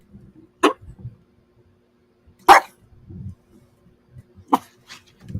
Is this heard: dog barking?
yes